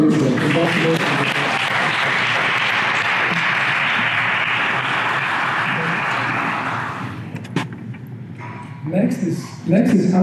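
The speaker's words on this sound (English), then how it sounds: "A round of applause for this one." An audience claps loudly at a 2017 hall of fame ceremony, a dense sustained round of applause for about seven seconds that fades out, followed by a few scattered claps and brief talk.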